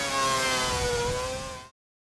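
A Formula 1 car engine in the F1 2011 racing game, running with its engine overheating, holds a loud, steady high-revving whine that drops slightly before cutting off abruptly into silence.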